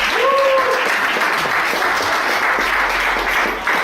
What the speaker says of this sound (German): die kriegen glaube ich einen riesengroßen Applaus